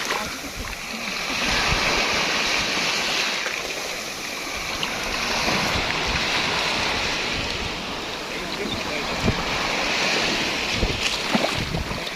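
Ocean waves surge and wash steadily at sea off the Biển Đông coast, with gusting wind buffeting the microphone throughout in a loud, continuous broadband roar.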